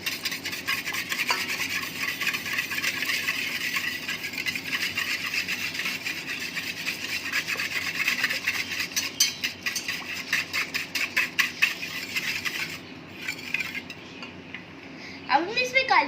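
Half a kilo of yogurt is whisked with sugar in a bowl. Steady rhythmic scraping and rubbing strokes continue throughout, growing choppier and more clattery toward the end.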